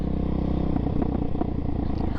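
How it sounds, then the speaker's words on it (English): Suzuki DRZ400SM motorcycle fitted with a freshly installed MRD Z-PRO exhaust, its engine running steadily up close with irregular crackling pops mixed into the rumble on deceleration. "I'm getting a massive amount of lean popping going on from my freshly installed exhaust on the D-cell"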